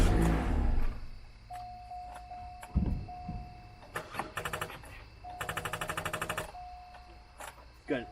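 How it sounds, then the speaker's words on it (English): Gunshots ring out in a distant, sharp burst, followed by a rapid run of repeated cracks like automatic fire, heard under an idling engine hum and occasional voices. "Gun. There's a gun. Listen."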